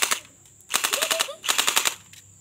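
Airsoft guns fire in rapid bursts during an outdoor airsoft game, two long automatic volleys of sharp, evenly spaced cracks, close and loud, with a short pause between them.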